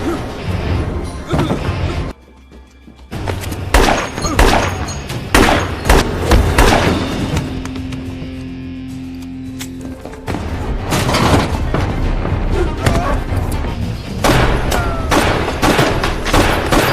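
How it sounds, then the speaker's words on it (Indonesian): Gunfire from the action film Falcon Rising fills the scene with repeated loud bangs and thuds over a dense, busy soundtrack, broken by a brief lull before the shooting picks up again. "tiba-tiba terdengar suara tembakan."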